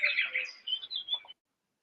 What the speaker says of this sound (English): Well, they're not the best birds,